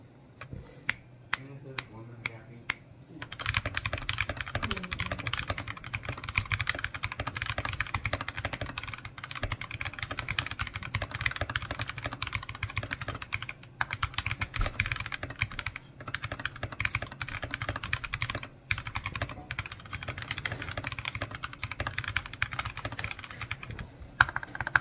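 Steady, rapid typing on a modded CIY AK61 mechanical keyboard fitted with unlubed Gateron yellow switches, close and clear, with dense clacking keystrokes running continuously after a few isolated taps at the start.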